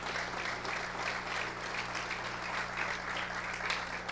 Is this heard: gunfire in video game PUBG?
no